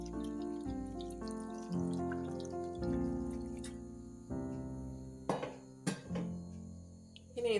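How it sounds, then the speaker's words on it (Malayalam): Water poured from a vessel into a cooking pot on a gas stove while making puzhukku, a Kerala dish, flowing steadily for several seconds over a tonal background, with a few sharp clinks near the end. "നമുക്കിനി ഇത് വേവുന്നതിന് ആവശ്യമായിട്ടുള്ള വെള്ളം ഒഴിച്ചു കൊടുക്കാം"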